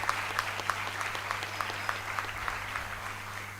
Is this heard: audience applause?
yes